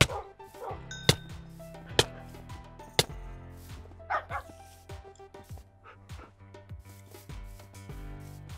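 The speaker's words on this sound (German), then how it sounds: "Ich mag meine Hunde." Dogs in Minecraft give short, faint barks scattered among sharp clicking hits and soft background game music, with no talk.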